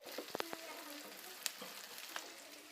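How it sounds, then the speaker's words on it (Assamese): Potatoes frying in oil with cumin, coriander, ginger and garlic, a faint, steady sizzle broken by a few small crackles and pops. "প্ৰথমতে আলুখিনি অলপমান ফ্ৰাই কৰি ল'ম তেলতে"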